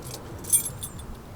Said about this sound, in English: came with keys. The original Ford key, no less.